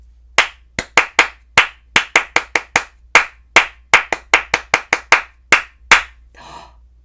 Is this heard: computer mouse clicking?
no